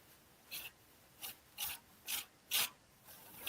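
Palette knife or scraper dragged over layered paint on a decorative mask, five or six short raspy strokes in a steady rhythm, close and fairly quiet with no talking.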